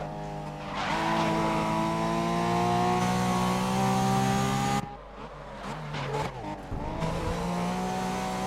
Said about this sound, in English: Power sliding,